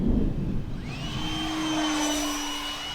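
An E-flite Habu STS model jet with a 70mm electric ducted fan whines loudly as it flies in strong wind. The high, steady fan tone rises and holds, with wind rumble beneath it.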